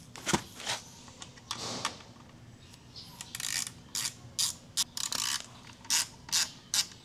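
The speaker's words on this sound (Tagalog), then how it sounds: "tanggalin natin yung fairings natin gamit tong 1/4 na ratchet" A 1/4-inch ratchet removes the fairing bolts on a Kawasaki ZH2 motorcycle, giving a series of quiet, rapid pawl clicking bursts up close that fall into a regular rhythm toward the end, with no talking.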